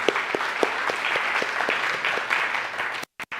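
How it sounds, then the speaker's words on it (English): A live audience bursts into a round of applause, dense and steady clapping filling the room with close sharp claps standing out, before cutting off abruptly near the end. "Give yourselves a round of applause here."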